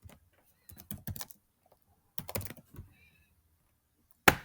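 Bursts of close keystrokes on a computer keyboard as a name is entered into an online agreement form, typed in short irregular runs separated by pauses, ending with a sharp louder click.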